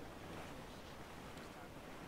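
Ocean waves wash against a sailing ship in the pirate game Assassin's Creed 4 Black Flag, a steady, broad rush of surf and wind with no distinct breaks, faint and continuous.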